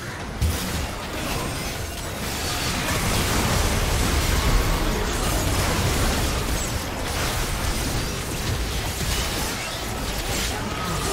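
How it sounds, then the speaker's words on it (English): A turret crumbling in a League of Legends match, a sustained loud rumbling blast with crackling debris that holds steady for several seconds. "Blue team's turret has been destroyed."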